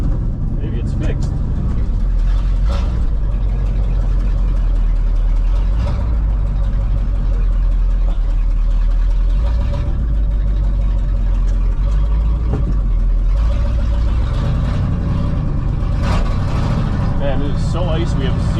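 Ford car engine idling on icy ground after being started, a low steady rumble close by with occasional revs and clunks, while people talk over it.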